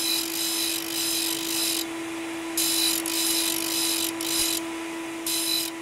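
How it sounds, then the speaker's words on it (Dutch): Teeth of a carbide-tipped saw blade are ground one by one in a sharpening workshop, producing a steady high-pitched grinding hiss that stops and restarts in repeated bursts over a constant motor hum. "Ik slijp het per tand."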